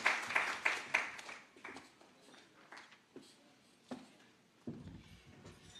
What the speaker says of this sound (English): Another big round of applause for Madam Jackie